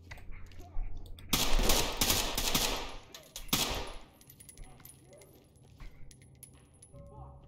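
Bursts of gunfire in the video game Ready or Not, a dense loud volley followed by a second sharp burst, with clinking metallic debris and quieter scattered noises trailing after.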